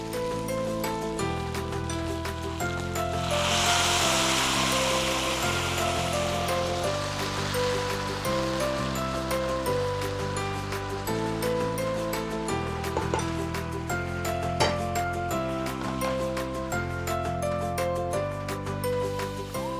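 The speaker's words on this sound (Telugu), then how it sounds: "Now it's time to add stock or water." Stock or water poured into a cooking pot of sancocho, a steady splashing pour rising for a few seconds beneath continuous background music.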